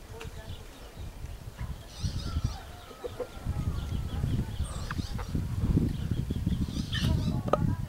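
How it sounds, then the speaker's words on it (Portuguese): Free-range chickens in rural Alagoas, Brazil, peck at leftover salt-cod stew and beans, giving off soft intermittent clucks and low murmuring calls close by over a steady bed of outdoor ambience. "As galinhas de capoeira ali estão saboreando um resto de bacalhoada."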